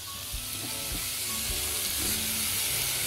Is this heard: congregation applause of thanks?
no